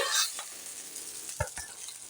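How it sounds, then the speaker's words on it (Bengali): A fish head fries in oil in a kadai, a soft steady sizzle with a couple of faint clinks, close and quiet, with no talk. "মাছের মাথাটা আমার সম্পূর্ণ ভাজা হয়ে গেছে।"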